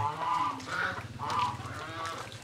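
A five-year-old bantam rooster on a farm crows close by, a loud, strained call with a few rising bursts lasting about two seconds.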